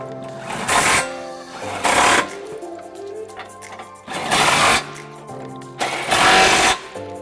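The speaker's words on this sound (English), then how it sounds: "And now using our 21mm swivel socket, we're going to go ahead and tighten it up" Trailer hitch bolts on a 2017 Jeep Grand Cherokee being run tight with a 21mm swivel socket, four loud buzzing bursts from a power tool with short mechanical pauses between them, close up.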